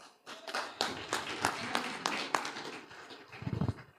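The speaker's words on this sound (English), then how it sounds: "Everybody give a round of applause." Scattered hand claps from a small group at a legislative session overview, uneven and fairly close, building to a brief burst of quicker clapping near the end.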